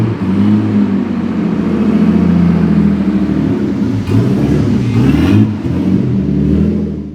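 A Nissan R33 RB25DET engine runs after a head gasket upgrade, a loud steady idle heard close with a couple of throttle blips rising and falling partway through.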